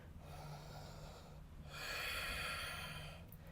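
A single deep, audible breath drawn in and released during a vinyasa yoga flow, soft and close, with a low steady hum underneath and no talking.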